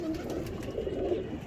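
Pigeons in a breeder's loft cooing steadily, a soft continuous low murmur of several birds close by, with no talk over it.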